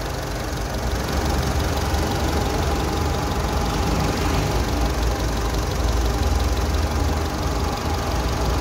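A 2008 Mitsubishi Strada Triton Exceed pickup engine idles close by with a steady, loud, even rumble and a slightly rough, knocking texture, running continuously with no talk over it.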